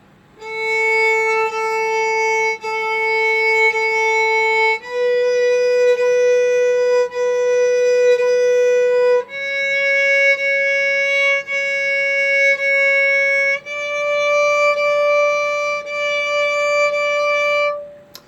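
A violin plays a slow rising sequence of bowed notes starting on open A, four even strokes on each pitch, clear and close with no talking.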